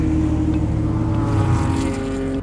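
A Porsche 944 race car drones steadily and loud at close range on an off-road racing track, its low rumble rough and uneven with a shuddering vibration from a failing exhaust.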